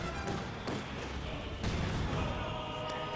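Company of Heroes 2 mortars and a mortar half-track fire at enemy emplacements, giving a few quiet, distant thumps that land a second or so apart over a low battlefield rumble.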